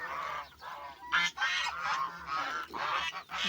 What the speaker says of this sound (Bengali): দেখেন কত বড় রাজহাঁস